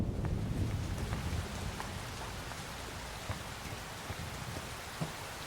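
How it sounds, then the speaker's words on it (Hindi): Steady rain pours down with scattered drips and patter on surfaces, and a low rumble underneath; no voices. "आ जाओ, बारिश आने वाली है"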